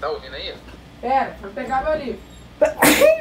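A single loud, sharp sneeze bursts out close by near the end, after a person speaks casually in Portuguese.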